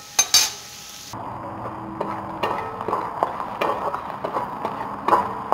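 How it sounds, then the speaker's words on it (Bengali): Garlic and red chillies frying on medium heat, a soft sizzle under repeated clinks and scrapes of a spoon stirring the pan, with a couple of sharp knocks at the start. "হিট মিডিয়ামে রেখে 2 মিনিটের মতো এটা আমি ফ্রাই করে নেব।"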